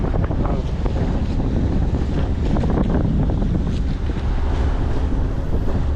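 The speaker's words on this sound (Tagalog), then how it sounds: "Malaki ang alon sa gilid." Large waves surge and break beside a small boat at sea, a loud continuous roar of water mixed with heavy wind buffeting, close and without talk.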